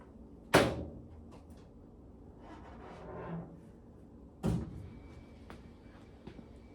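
A loose-hinged door being fitted on a 1972 VW Super Beetle gives two sharp, close knocks a few seconds apart, with a softer rustle and scrape between them.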